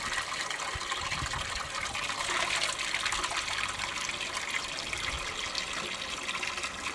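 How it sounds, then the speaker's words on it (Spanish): Water pours steadily at a public fountain, a continuous close rushing and splashing that holds at an even level throughout without voices. "Nos encontramos en la fuente pública de San Isidro, una fuente pública a la que vienen muchos vecinos a tomar agua."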